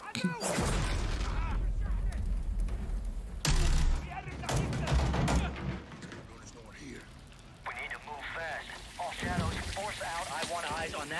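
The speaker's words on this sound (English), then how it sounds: "I just wanted to hear like the guns" Gunfire in a video game trailer, dense bursts of shots under loud overlapping talk, with a heavy booming stretch before the shooting thins out.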